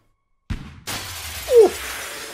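A stained glass window shatters in the video game Fable 2, a sudden bright crash of breaking glass followed by a scatter of falling shards, loud and close with no talking.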